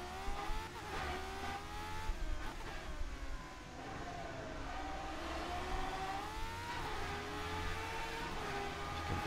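McLaren M23 race car in a racing video game, its engine droning and revving through a difficult corner complex with the throttle eased, a continuous moderately quiet tone rising and falling in pitch with no voices.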